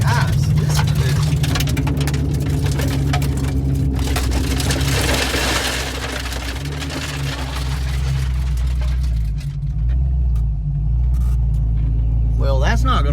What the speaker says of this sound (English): car's just blowing the tires off of it.